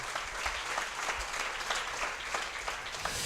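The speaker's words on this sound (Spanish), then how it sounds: "Démosle un aplauso a Jesucristo, hermano" A church congregation claps during a sermon, a steady, moderately distant wash of applause from many hands, continuous throughout without speech.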